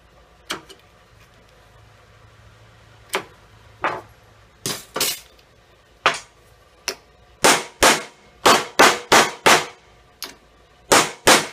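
A hammer strikes brass while forming and flattening a falconry bell, giving sharp metallic clinks. Sparse blows at first build into a quick, regular run of close, ringing hits toward the end.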